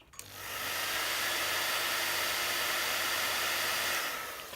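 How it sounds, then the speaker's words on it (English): A hair dryer blasts steadily at close range for several seconds, a loud, even airy roar with a low motor hum, drying glue on a hand-sculpted Wookiee-style dial piece. "I'm going to blast that with a hairdryer."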